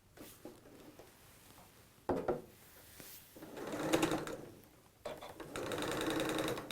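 A sewing machine with a poorly wound bobbin runs in short stop-start bursts while a cross cushion is stitched, its motor whirring and rattling up loudly, pausing, then starting again nearby.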